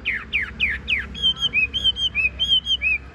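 A Tam Hoàng songbird sings close by: four quick descending chirps give way to a run of bright, clear whistled phrases repeating in a steady rhythm, loud over a faint low background hum.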